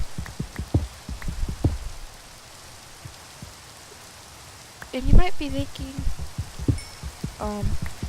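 Soft steady patter of video game rain hisses in the background while someone talks over it in bursts.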